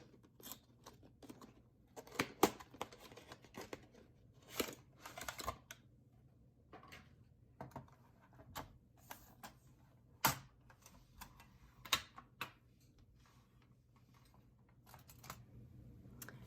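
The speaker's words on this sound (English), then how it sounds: "I'm gonna open up this box of Mungyo paints." Crinkling and tearing of plastic wrap and cardboard as a box of Mungyo 48-color watercolor paints is opened, giving sharp close taps and rustles in uneven bursts with no talking.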